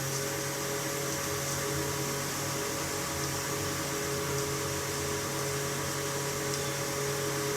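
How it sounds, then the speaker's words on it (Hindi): An electric ceiling fan whirring loudly in a village kitchen, a steady broadband rush with a faint hum, constant and close with no talk over it. "अब चलाएंगे पंखा, हेलीकॉप्टर, आवाज सुनो।"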